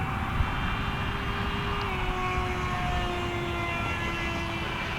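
A Flite Test STEM Jet Charlie RC model jet in flight, a steady whining motor drone with rising and falling tonal pitch, held at low throttle over constant wind and background noise.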